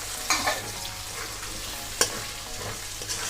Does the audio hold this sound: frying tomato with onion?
yes